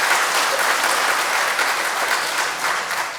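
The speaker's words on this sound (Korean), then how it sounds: "이때 박수 한번 나와야 되겠습니까?" A church congregation gives steady, dense applause during an ordination service for elders, deaconesses and ordained deacons, sustained and close without a break.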